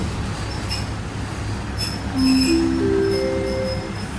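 Train no. 439 at Bua Yai Junction station in Thailand gives a steady low rumble of rolling cars, with rising metallic wheel squeals and faint clinks nearby.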